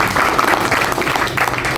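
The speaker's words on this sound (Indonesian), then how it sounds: "jadi kita tepuk tangan dulu buat pemerintahan Kota Depok ya" Loud applause from a crowd at a Halal bi Halal and Easter gathering, honoring the Depok city government, dense continuous clapping close by.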